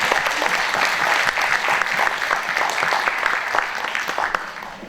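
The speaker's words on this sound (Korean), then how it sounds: "김유진 학생 단상으로 여러분 큰 박수로 모셔주시기 바랍니다." An audience claps loudly at a June 10th Democratic Uprising memorial ceremony as a student is welcomed to the podium, a dense continuous wash of hand claps that stays strong throughout, with crisp individual claps standing out near the end.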